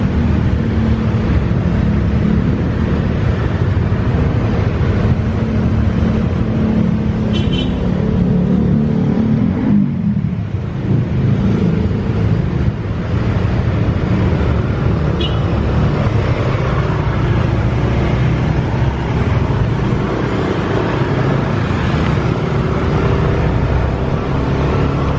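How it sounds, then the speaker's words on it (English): Continuous traffic of scooters on the main Ubud road in Bali, a steady broadband engine roar and rushing drone for the whole stretch, loud and unbroken, with no talk. "Never ending scooters."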